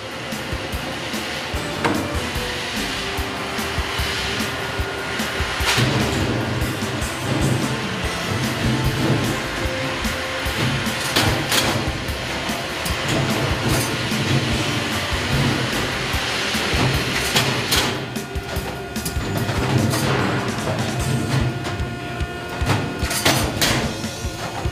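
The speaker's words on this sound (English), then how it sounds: "The handling of duct sections and closing up the Pittsburgh seams has been cut more than half." A Whisper-Loc duct machine closes Pittsburgh seams on sheet-metal duct sections in a workshop, a continuous loud mechanical rumble and whir with periodic clanks and rattling metal.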